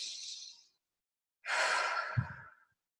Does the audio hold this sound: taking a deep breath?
yes